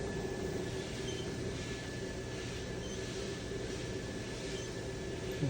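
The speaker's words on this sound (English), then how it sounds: "I'll go ahead and do a spindle test." The spindle of a 2017 TRAK 2OP CNC vertical machining center runs during a spindle test. It gives a steady, unchanging mechanical whir with a faint constant whine throughout.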